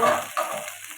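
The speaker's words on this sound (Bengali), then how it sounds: "ভালো করে নাড়িয়ে নিতে হবে।" Tomato stirred into a frying singi fish curry with ginger, turmeric and salt gives a close, steady sizzle. Soft scraping stirs run through the sizzle, with no talking.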